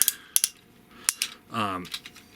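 The ratcheted joints of a Voodoo Robots Ironhide toy figure are moved, giving a series of crisp plastic clicks and a short rapid ratcheting run, close up and without talk.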